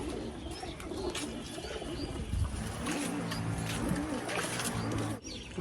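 Oman bloodline teddy pigeons cooing in a loft, repeated soft throaty coos from several birds nearby with some chirps and rustling.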